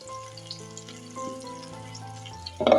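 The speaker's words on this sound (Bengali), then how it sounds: "দুই পাশটা একটু কড়া করে ভেজে নিলাম" Beef pieces for dopiaza frying in oil in a pan after browning on both sides: a steady soft sizzle under tonal background music, then a louder crackling burst at the end.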